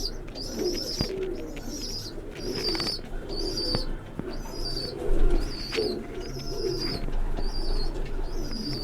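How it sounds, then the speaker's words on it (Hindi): A loft of pet pigeons coos steadily in low rolling calls, with repeated sharper chirps and tweets over them. The birds are close and moderately loud, with no voices. "ये देखिए भाई कबूतर"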